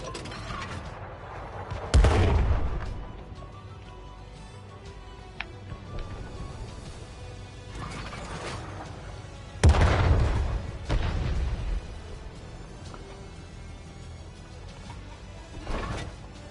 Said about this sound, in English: Okay, now my artillery shell will not hit that same spot